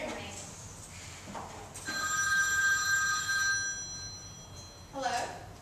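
A telephone bell rings during a stage-play dress rehearsal, one sustained ringing burst of about two seconds, fairly loud against a quiet room, with brief faint sounds before and after.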